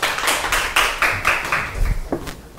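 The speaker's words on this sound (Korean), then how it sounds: "큰 박수 부탁드립니다." Scattered clapping from a lecture audience welcoming a speaker to an ocean endangered-species talk, a few seconds of uneven, moderately loud claps.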